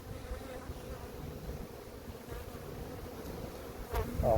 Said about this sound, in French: Les abeilles sont en train de construire les cadres de hausse.